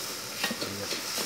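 Mama instant noodles stir-fried with a spatula in a pan, a steady sizzling hiss with light scraping stirs throughout, no talk over it.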